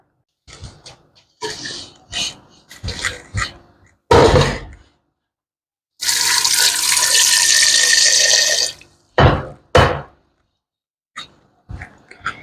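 Tap water running in intermittent splashy bursts while minced meat is washed for aaloo keema, loud and close, with a longer steady gush in the middle and short splashes around it.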